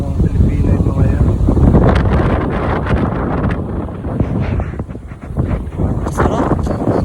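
Wind gusts at a seashore in Saudi Arabia, loud, blustery buffeting across the microphone that rises and falls throughout, with a person talking underneath.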